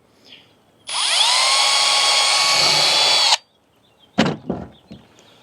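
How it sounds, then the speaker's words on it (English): A power drill whirs up and bores steadily through a plastic kayak hull for a few seconds, then stops, followed by a couple of sharp knocks and clatter. "Drill it out, and then just drop one of these screws in"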